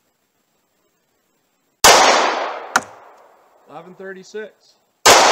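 Two loud, sharp 9mm Hornady Critical Defense gunshots fired from a 4-inch barrel, the first ringing out with a long decaying tail, a clank following, and someone briefly speaking before the second shot cracks at the end.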